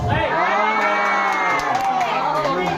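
A large crowd of supporters shouts and cheers loudly and continuously, with many overlapping voices sustaining a long, drawn-out yell in a longest-shout contest.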